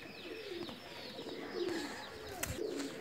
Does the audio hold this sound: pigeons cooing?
yes